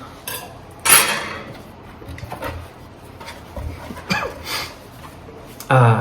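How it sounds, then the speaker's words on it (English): A butter knife scrapes and clicks as it slices through sticker seals on the side of a cardboard box, with a sharp clatter near the start and another at the end, close and fairly loud over quiet background. "We'll just use a butter knife to cut those open."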